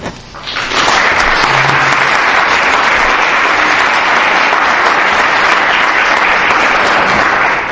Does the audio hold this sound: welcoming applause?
yes